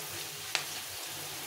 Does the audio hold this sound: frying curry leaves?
yes